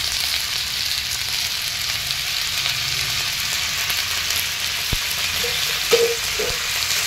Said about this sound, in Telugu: వీటిని మంచిగా ఫ్రై చేసుకోవాలి మంచిగా